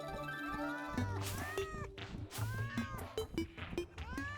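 Several cats meow in the video game Terraria, a string of short rising and falling calls, fairly close and loud, repeated over a busy game background with no talk.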